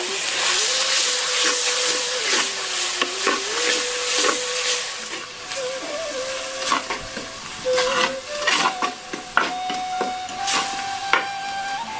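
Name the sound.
sautéing chopped tomatoes and onions in a pan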